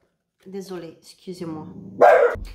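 A pet dog barks excitedly at passers-by, one sharp close bark cutting in after a woman's brief apologetic speech.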